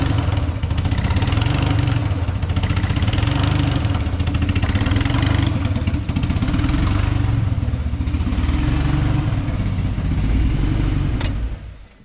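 A turbocharged 1.8-liter Mazda Miata engine, fitted with a Maxpeedingrods turbo kit and making positive boost pressure, runs loudly and steadily up close with a low, throbbing rumble, then cuts off abruptly at the end.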